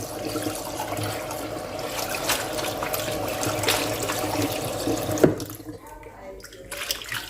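Blanched leaves of Siamese neem tree (sadao) go into cold water, heard as running and splashing water from a tap or basin, close and continuous before it fades into quieter trickles, with a voice speaking over part of it.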